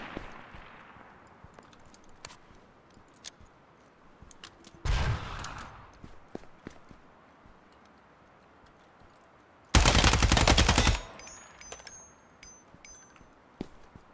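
Gunfire in the tactical shooter Ground Branch: sparse single shots, then a dense automatic burst around five seconds and a louder sustained burst near ten seconds, over a steady low background.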